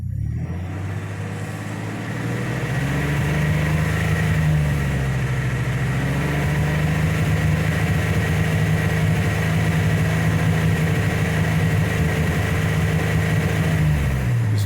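A 1995 Ford F150 with a 4.9L six-cylinder engine idling and misfiring, a loud, close, rough low rumble that rises briefly and then holds steady, with no talk.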